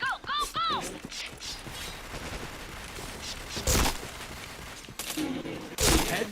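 Sharp bursts of gunfire ring out in a shooting video game, with a few loud isolated shots and scattered distant firing over game noise, while several people chatter over the action.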